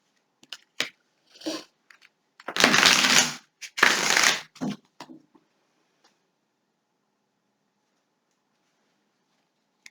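Tarot cards shuffled by hand, a few light riffles and then two louder, close bursts of rustling cards in the middle, followed by near silence.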